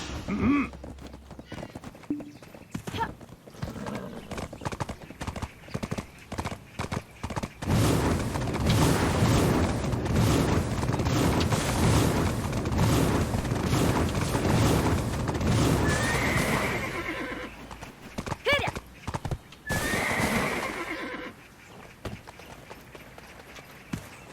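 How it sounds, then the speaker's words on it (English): A horse neighs and whinnies loudly over steady clip-clopping hooves, with sparse footstep-like clatter at the start and louder whinnies near the end. The horse is in the video game Black Desert Online. "Hey, the horse is upset."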